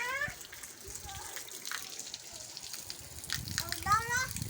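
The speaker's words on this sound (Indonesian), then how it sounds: "mandi air panas" Tap water runs into a bath being filled with hot water, a soft steady wash while children chatter and play close by.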